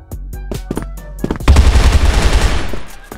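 Rapid automatic gunfire in a video game, a few spaced single shots followed by a loud sustained burst of fire, close and dominant.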